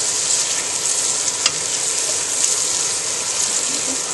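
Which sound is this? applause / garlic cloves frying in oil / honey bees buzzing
garlic cloves frying in oil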